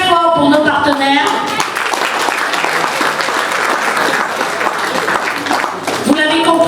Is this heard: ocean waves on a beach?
no